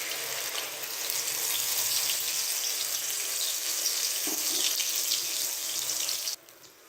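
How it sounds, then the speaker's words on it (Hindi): Onions and fenugreek seeds fry in hot oil in a kadhai, giving a loud, steady hiss and sizzle that holds for several seconds and then cuts off abruptly near the end. "अब हम यहाँ पर प्याज को फ्राई करेंगे"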